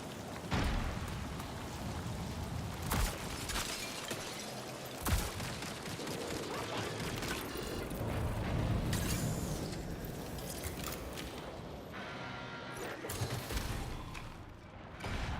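Rapid bursts of Vandal rifle fire in a video game shooter, dense and punchy, repeating in short volleys over a busy background of game effects, with a brief reload-like clatter near the end.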